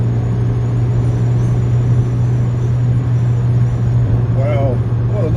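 A Mk1 Renault Twingo drives along a road at speed, heard from inside as a steady, loud engine drone with a constant low hum and road rumble, unbroken throughout with no talking.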